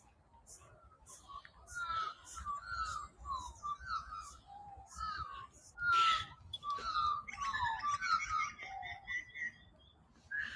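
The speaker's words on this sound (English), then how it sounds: "And I can hear crows and I can hear currawongs." Crows and currawongs calling around the Homebush Bay shoreline, a busy mix of fluting, wavering and harsh calls at moderate distance, overlapping and repeated across the whole stretch.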